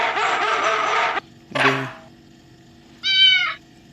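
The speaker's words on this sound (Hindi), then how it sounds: "ये बिल्ली आ गया" A cat meows twice, loud and close, with short gaps between the calls, and a few other brief animal-like sounds around them.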